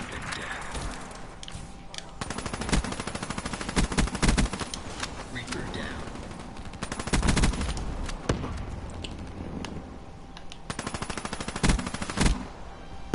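The Weevil gun in a video game firing rapid automatic bursts, several sustained strings of loud close shots separated by short pauses, with voices talking underneath.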